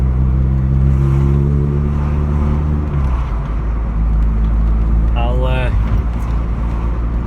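A 1984 mk2 Vauxhall Cavalier drives along with a steady engine drone and road noise heard from inside, the engine note dropping after a gear change, while someone talks throughout.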